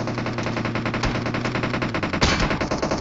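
Heavy automatic gunfire from a battle royale video game, a dense continuous rattle of rapid shots with a sharper, louder burst near the end, loud and close with no talking.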